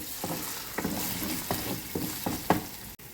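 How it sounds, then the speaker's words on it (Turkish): Tomato paste fries with butter and mint in a pan, giving a constant sizzle broken by about six rhythmic scrapes of a stirring spoon. Near the end comes a sharp click, and no one speaks. "Salçamızı nane ile birlikte kavuruyoruz bu şekilde."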